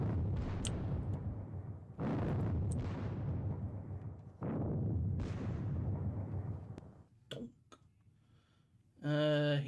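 Russian artillery in a Napoleonic-era war video game booms in a series of heavy, rumbling blasts with long decaying tails, several shots spaced a couple of seconds apart, followed by a few sharper pops and a brief tonal sound at the end.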